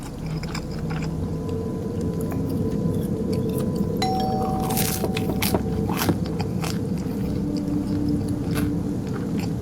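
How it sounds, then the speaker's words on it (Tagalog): Crunchy pizza being chewed in the horror game Fears to Fathom: Carson House, a steady crackling bite-and-chew texture running throughout over a low background hum, fairly close and consistent. "Ang crunchy naman ng pizza na kinakain mo."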